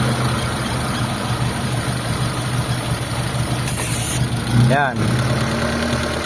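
Mitsubishi Lancer GLXi engine idling steadily with a vacuum hose pulled off, a continuous close low rumble with a brief surge near the end, while someone talks over it.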